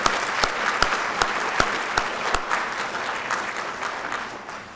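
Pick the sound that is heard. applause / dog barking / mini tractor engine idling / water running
applause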